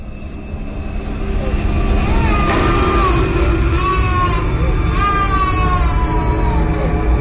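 A young child cries in repeated loud, rising wails at close range, the sobbing bursts coming every second or so over a steady low background drone.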